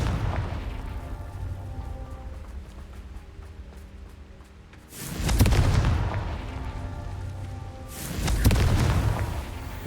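Two heavy fire-blast spell explosions in the Hogwarts Legacy video game, each a loud booming burst several seconds apart that rises sharply over a low rumbling game ambience and slowly fades.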